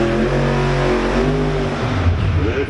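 A drag racing test car engine at the Pontiac Nationals idles loudly and close, rough and steady, then blips into a brief rev near the end.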